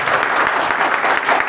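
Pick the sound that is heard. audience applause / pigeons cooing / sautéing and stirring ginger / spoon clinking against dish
audience applause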